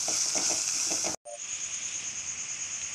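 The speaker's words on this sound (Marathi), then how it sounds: "आता आपण हे छान परतून घेऊया।" Spices such as coriander powder, turmeric and chili powder sautéing in a pan for dal tadka: a steady, bright sizzling hiss, briefly cut off by a short gap, then continuing evenly and close.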